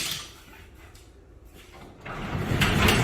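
A garage door is pushed by hand along its track, giving a rumbling, scraping slide that grows louder and rougher toward the end, with no voices over it.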